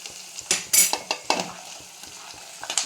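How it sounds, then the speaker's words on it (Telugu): Ridge gourd pieces tumble into a hot frying pan with a cluster of sharp clattering hits and quick sizzle bursts, then a few lighter utensil taps, all close and with no talking. "బీరకాయ ముక్కలు వేసేస్తున్నాను ఫ్రెండ్స్"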